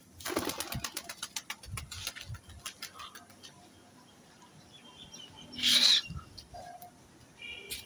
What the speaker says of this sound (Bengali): এই একটা মাদি পায়রা, এটা হচ্ছে মাদি পায়রা